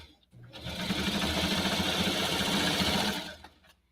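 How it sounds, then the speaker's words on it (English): A domestic sewing machine stitches a shoulder seam on cozy fall pajamas, running steadily for about three seconds with a dense whirring drone that starts and stops cleanly, fairly close and moderately loud. "we're sewing that last shoulder seam up, and then we'll just finish that edge along the neckline"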